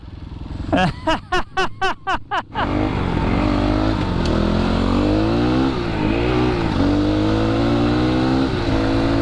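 A four-wheeler ATV rides on a dirt single track, its engine close and loud: a burst of choppy pulsing, then a sustained revving drone that rises and falls.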